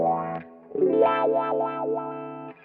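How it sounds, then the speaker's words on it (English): A distorted electric guitar chord rings out, then a Crybaby wah pedal sweeps it up and down in a vocal, talking rhythm with several rises and falls. "now we listen to the wah. One of my favorite is the Crybaby"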